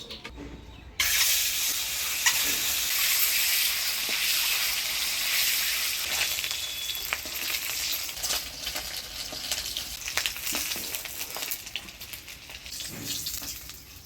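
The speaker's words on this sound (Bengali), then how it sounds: "কড়াই গরম হয়ে গেছে, এবার তেল দিয়ে ডিমটা ভেজে নিব।" An egg coated with turmeric and salt sizzles in hot oil in a wok, the sound starting abruptly after a brief quiet moment, then a steady, close, loud hiss with scattered pops and crackles throughout, no voices.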